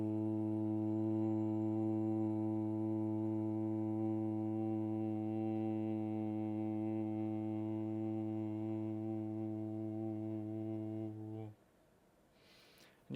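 A steady low 'voo' tone hummed from the belly on a long exhale, held evenly for about eleven seconds before stopping, close and alone with no other sound.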